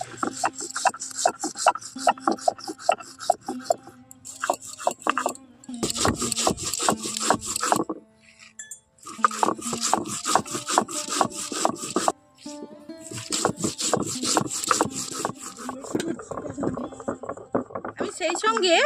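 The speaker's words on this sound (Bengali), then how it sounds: "এখন এই সবগুলো আমি একসঙ্গে নিয়ে নিচ্ছি নিয়ে শিল নড়াইতে খুব ভালো করে বেটে নেবো" Spices, green chillies and peanuts being ground on a shil-nora grinding stone, a loud, rhythmic scraping and rubbing in repeated strokes with two brief pauses, while someone talks over the work.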